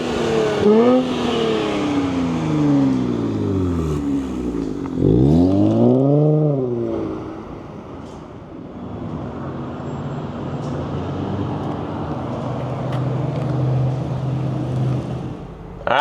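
A twin-turbo Nissan Z starts up close by with a loud rev that rises and falls twice, then settles into a steady, rumbling idle.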